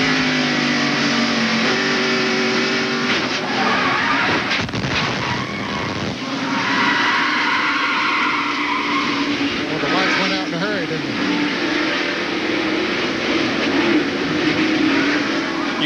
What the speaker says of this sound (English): You could hear Dale get on the accelerator when he saw that Meacham and Gant had touched, hoping to get by them